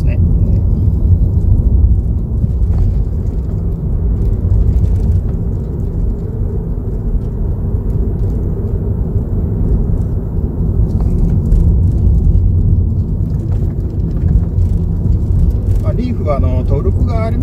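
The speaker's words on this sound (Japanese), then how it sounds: "エコモードであってもあの軽くアクセル踏めば上り坂をぐいぐい登ってくれます" Inside a Nissan Leaf electric car climbing a steep mountain road with hairpin curves in eco mode, a steady low road and cabin rumble holds throughout, with a faint rattle near the end.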